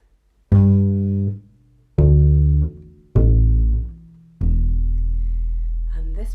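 Four plucked notes on the four strings of a double bass, played one after another and each descending in pitch, with a deep booming attack and a long ringing decay, the last note sustaining to the end.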